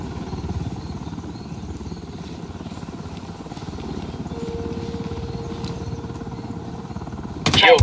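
A helicopter's rotor in Tom Clancy's Ghost Recon Wildlands chops steadily in the background, a continuous rhythmic thumping at moderate distance, ending with a sudden sharp clatter.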